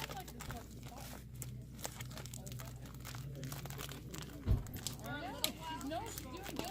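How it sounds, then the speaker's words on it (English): Bannock bread dough is squeezed and kneaded inside a plastic bag at a camp, giving close, soft crinkling and rustling in irregular bursts while people talk. "It gets sticky, so we'll mix it up in the bag"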